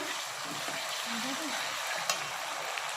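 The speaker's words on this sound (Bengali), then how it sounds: "গোলমরিচ পাতা দিলাম, পেঁয়াজ দিয়ে দিলাম, বাটা দিয়ে দিলাম, একটু নাড়বো।" Onion, pepper leaves and spice paste frying in a pan give a steady, hissing sizzle, with soft stirring scrapes and a faint voice murmuring underneath.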